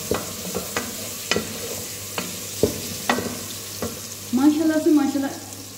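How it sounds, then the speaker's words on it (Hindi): Ginger garlic paste frying and being stirred in a pan: spaced spoon or spatula knocks against the metal, then a brief burst of crackling sizzle near the end, close and fairly loud. "अदरक लहसुन का पेस्ट, उसके बाद इसको थोड़ा सा फ्राई करेंगे"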